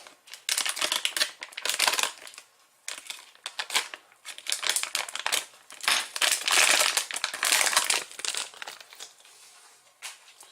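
A blue circuit-board expansion board for an Elegoo robot car kit is cut out of its packaging, giving bursts of crinkling and crunching plastic snips in irregular close-up clusters with brief pauses.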